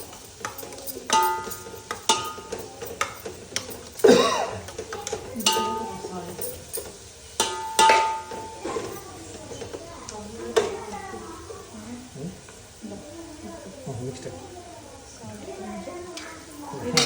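Masala sautéing in a pan for biryani, stirred with soft scraping and tapping and a faint sizzle throughout, while someone talks over the cooking.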